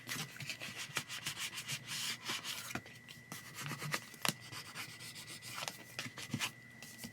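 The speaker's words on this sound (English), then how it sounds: "get my craft scraper. I'm going to smooth the design over and then push it into the spine and then smooth it again." A craft scraper rubs a design onto a creative journal page and pushes it toward the spine, giving soft, repeated scraping and rubbing strokes at close range, quiet and without speech.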